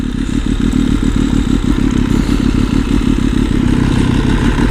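Motorcycle idling loud and close with a steady, throbbing low rumble after coming to a stop, with no clear separate clack from the kickstand standing out above the engine.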